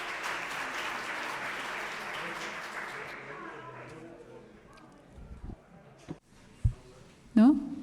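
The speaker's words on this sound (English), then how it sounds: "Please, a big clap." Audience applause at a ufology congress, a broad wash of clapping filling the first three seconds, then fading out into a quieter room with a few scattered knocks and brief voices.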